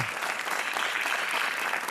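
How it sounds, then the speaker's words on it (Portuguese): A TV game show studio audience claps for a new contestant, a brief, dense and even burst of applause heard alone. "Mais 5 segundos de palmas para o nosso Tiago"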